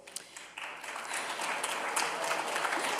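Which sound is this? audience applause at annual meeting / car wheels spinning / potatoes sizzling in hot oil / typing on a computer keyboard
audience applause at annual meeting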